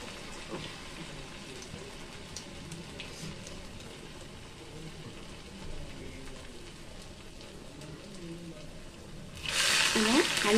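Minappappu vada batter sizzling in hot oil, a steady crackling hiss that holds for several seconds before surging louder as fresh batter drops in near the end; a voice talks faintly at times.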